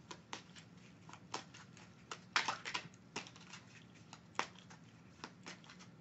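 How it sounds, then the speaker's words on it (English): A deck of oracle cards is shuffled close to the microphone, giving quiet, irregular riffling clicks and flutters with a few louder bursts. "As I shuffle the deck"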